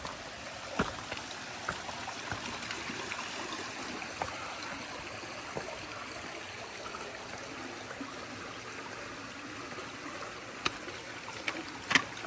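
A stream on the Appalachian Trail runs in a continuous close wash of flowing water, with a few brief splashes and knocks scattered through it and a louder splash near the end, no talking.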